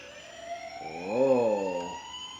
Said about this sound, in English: What kind of noises does the siren make?